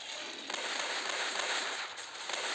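Rapid weapon fire from the Respawnables mobile shooter game forms a dense, crackling burst of shots with a few sharper cracks, moderately loud and without any voice.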